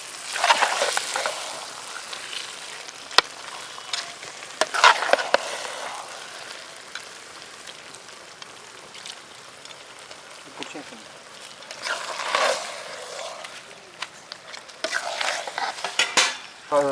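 Rabbit meat being stirred and sautéed in a pan, with bursts of scraping and clinking of a spoon against the pan between quieter stretches of soft sizzling.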